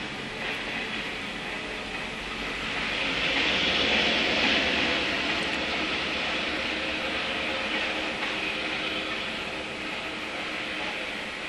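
A train rolls past on the railway, a steady broad rumble and rush that swells to its loudest in the middle and then eases slightly, heard alone with no talk.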